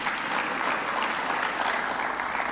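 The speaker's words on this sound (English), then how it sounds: "Another clap for him" Audience applause at a live event, a dense, steady wash of clapping from a crowd that holds evenly at moderate loudness throughout without a break.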